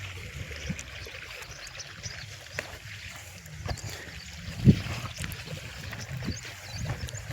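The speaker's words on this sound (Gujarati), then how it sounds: "અહીંયા ધોરિયામાં પાણી આવે છે આપણે।" Irrigation water runs along a ditch beside a fenugreek field, a faint, steady trickle and gurgle with no one speaking.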